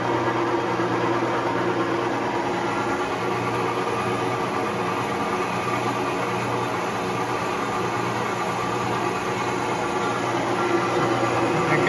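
A milling machine on auto down feed drilling a hole, a steady mechanical hum and whir with a broad noisy wash, continuous and fairly close throughout, with no voices.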